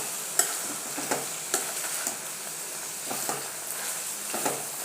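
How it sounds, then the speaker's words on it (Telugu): Ivy gourd (dondakaya) curry frying in a pan, stirred with a spatula: a steady sizzle throughout, broken by several sharp scraping strokes at irregular intervals, close up, with no talking. "దొండకాయలు వేసాను. ఒకసారి తిప్పుకుందాం, తిప్పుకుందాం"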